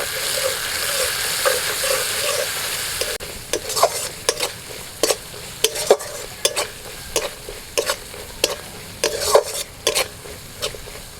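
Masala paste with Kashmiri chili powder and garam masala sautéing in oil, giving a continuous hissing sizzle punctuated by a rapid series of sharp spoon scrapes and taps as it is stirred.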